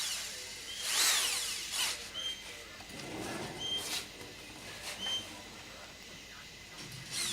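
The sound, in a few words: power drill drilling a bolt hole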